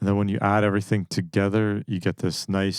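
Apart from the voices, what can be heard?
No everyday noise stands out behind the speech.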